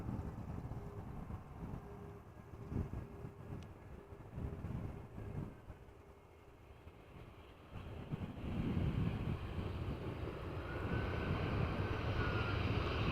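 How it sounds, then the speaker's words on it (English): An airliner landing at Amsterdam Schiphol, its broad engine roar building as thrust reversers are applied on rollout, a steady distant rumble mixed with wind noise. "Sound of the reversers being applied, overshadowed by the airplane approaching and landing."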